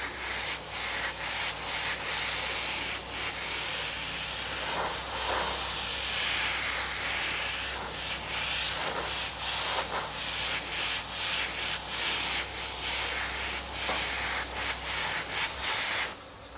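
An airbrush sprays coats of paint onto a helmet, a continuous close hiss that runs through the stretch with brief breaks and swells between strokes, and no talking.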